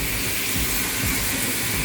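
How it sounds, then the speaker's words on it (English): Hands washed with soap under a running kitchen tap during cooking, a steady close rush of water streaming without pause throughout, loud and alone. "Very important to wash your hands every time you touch raw meat. Soap and water."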